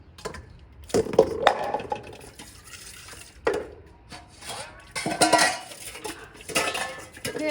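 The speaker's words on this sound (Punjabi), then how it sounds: "ਭਾਂਡੇ ਮਾਜ ਲਈਏ" Dishes and cutlery clatter and clink in bursts, with water splashing between them, close by and fairly loud.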